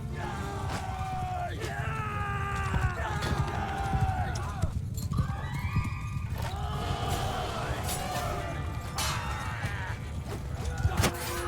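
Horses in a Mount & Blade II Bannerlord battle whinny and neigh repeatedly over a clatter of hooves and combat noise, with someone talking throughout.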